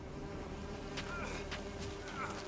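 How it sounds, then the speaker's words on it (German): Bees buzz in the Witcher 3 video game, a faint, soft, wavering drone with brief rising swells over a low steady background. "Das sind Bienen."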